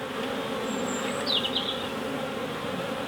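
Honey bees swarm around a hive box set up by a willow tree after a UK swarm collection, a dense, steady buzzing drone with individual bees whining past close by.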